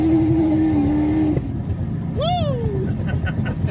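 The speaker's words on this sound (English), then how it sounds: "I love the downshifts on the ZL1. You guys have a listen to this." A Chevrolet Camaro ZL1 engine drones steadily, then drops off and rises again in a quick downshift and rev blip, heard close with rushing air and road noise through open windows.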